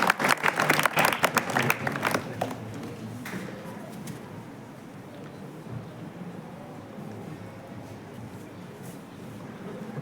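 Audience applause at a school naming ceremony for a reading room starts as a dense, loud burst of many clapping hands, then thins and fades within a few seconds into quieter room murmur and background noise.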